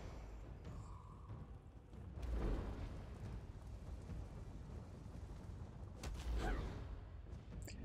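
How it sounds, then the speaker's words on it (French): Combat in The Elder Scrolls Online, with an enemy hurling spells: broadband magical blasts and rumbling impacts swell near 2.3 seconds and again around 6.2 seconds over a continuous dense battle din. "on a encore un ennemi, voilà, qui nous attaque avec des sorts"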